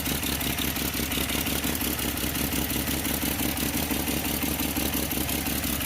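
Close-up of a 1975 Plymouth Duster engine idling with a misfire and an exhaust leak, a rapid, puffing exhaust chuff, a raspy ticking pulse repeating steadily throughout.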